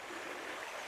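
A small, low, tannin-coloured trout stream flows in a brief steady wash of gentle water noise, close by and without voices.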